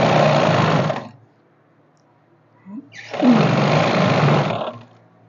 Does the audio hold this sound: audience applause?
no